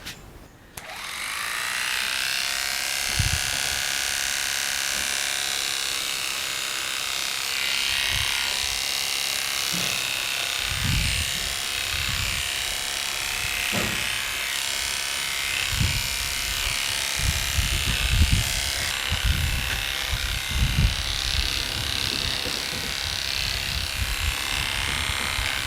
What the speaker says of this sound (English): I'm going to trim down the flat part of his head and his ears with a clipper